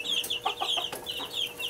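Small chicks cluck and peep over and over while being fed on a farm, their bright repeated calls close by and fairly loud with no talk.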